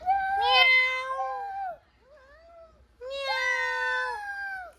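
Two long, drawn-out meows, loud and close with a short quiet gap between them, sound much like a cat, though they may come from a person imitating one.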